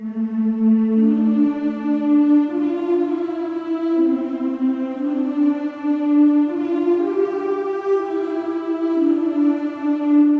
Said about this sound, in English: So I added the choir humming the melody.